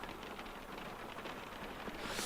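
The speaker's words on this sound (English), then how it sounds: "I just love the sound of rain." Rain falls steadily in Euro Truck Simulator 2, heard from inside a truck cab as a dense, even hiss of drops on the surface, with a slight swell in intensity at the very end.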